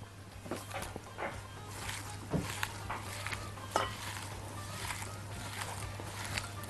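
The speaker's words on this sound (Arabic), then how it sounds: "ابتدي امزج المكونات دي مع بعض وندعك كده البصل كويس جدا بالتتبيله دي" Sliced onion is rubbed by hand with sumac, salt, pepper and lemon juice, giving soft, irregular squelching and crinkling rubs with occasional sharper clicks, close and fairly quiet over a steady low hum.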